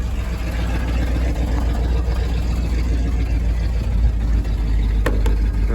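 The engine of a Ford F-250 that had been locked up runs steadily after starting, a loud, continuous low rumble at an even idle, close and unbroken, with a couple of faint clicks near the end.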